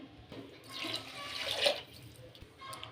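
Water pours from a glass into rice in a cooking pot over ginger already fried in it, for tomato rice: a steady splashing gush that swells and fades over about two seconds, close by with no voices.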